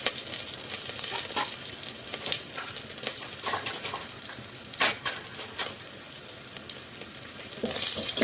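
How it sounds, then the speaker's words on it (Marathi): Whole spices and slit green chillies dropped into hot oil for chicken biryani, a steady crackling sizzle up close with sharper pops and spits scattered throughout, including a louder burst midway. "तेल गरम झालेलं आहे. त्याच्यात खडे मसाले टाकायचे आणि उभी चिरलेली हिरवी मिरची"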